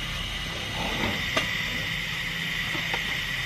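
Steady hissing rush of steam venting continuously from a pot of goat meat kaldereta, fairly loud and close, with a couple of faint clinks in the background.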